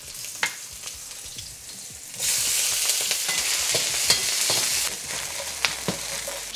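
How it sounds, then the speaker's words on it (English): Food frying in chili oil and regular oil in a pan, crackling sizzle with scattered pops and stirring, swelling louder in the middle then easing back, no talking. "Gonna fry this until they soften up a little bit."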